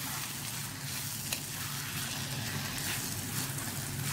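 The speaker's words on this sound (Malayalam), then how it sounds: "ചെറിയ ഫ്ലെയിമിൽ വെച്ചിട്ട് ഒരു 8 മിനിറ്റ് നമ്മൾക്ക് ഇത് കുക്ക് ചെയ്ത് എടുക്കാം" Prawns roasting in coconut oil over a low flame, giving a steady, even sizzle and crackle that runs unbroken and fairly quiet, with no voices over it.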